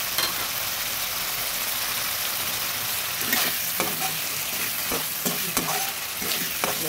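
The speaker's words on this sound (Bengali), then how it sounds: "নেড়ে দিচ্ছি।" Chopped tomato sizzles steadily in fried spice paste for a Bengali rohu fish curry with broad bean seeds, while a spoon stirs through it with intermittent scraping strokes against the pan, close and fairly loud, with no talking.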